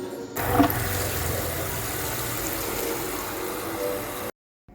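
Water gushes steadily into a medium-sized bucket, a loud close rushing pour that holds for about four seconds before cutting off.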